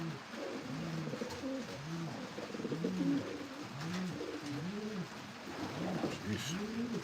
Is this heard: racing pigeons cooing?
yes